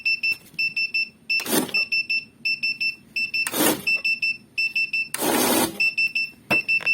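Kozure MC-101 money counting machine sounding its alarm, repeated rapid high electronic beeps in short bursts, close and steady, interrupted by a few loud whirring bursts of the counter spinning.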